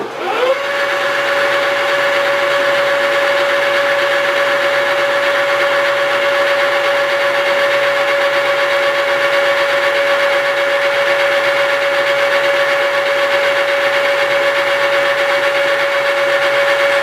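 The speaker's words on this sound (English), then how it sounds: "we're going ahead and putting in a 3/8 diameter starter drill here" A 3/8-inch starter drill bit cuts in a steady, loud drill whine that runs continuously with a constant high pitch and mechanical hum, with no talking over it.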